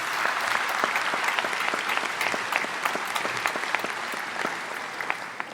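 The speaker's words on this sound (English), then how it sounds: "Can we give them another round of applause, please?" Sustained applause from a graduation ceremony audience, a broad wash of many hands with individual sharper claps popping through, steady and fairly loud throughout.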